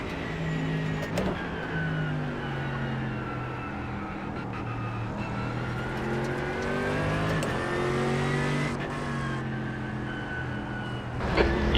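A GT3 race car engine roars at Spa on a hot track day. The tone is loud and sustained, and its pitch rises and falls as the car accelerates and shifts, with no break across the run.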